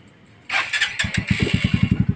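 A Supremo 150 motorcycle, low on oil and knocking, cranks and fires, then settles into a rough, loud, uneven idle with steady pulsing thumps close by.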